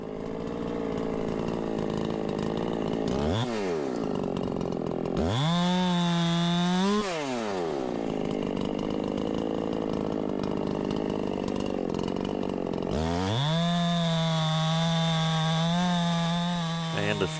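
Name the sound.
Stihl or Echo chainsaw cutting firewood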